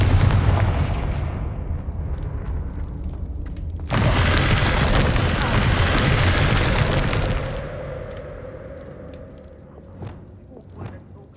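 A Confringo blasting spell goes off in Hogwarts Legacy, a sudden loud burst that swells into a dense, roaring blast of several seconds before fading into a low rumble, with a few small pops at the end.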